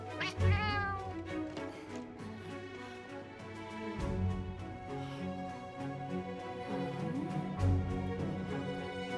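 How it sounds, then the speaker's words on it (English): Cats meow repeatedly in the Monster Hunter Wilds video game, several drawn-out mews spread across the stretch over a soft layered game soundtrack, with no talking. "Cat noises."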